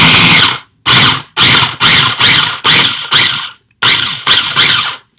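Food processor with its lid on grinding guacamole ingredients in a series of about nine loud, close pulses, each a short burst of whirring separated by brief pauses.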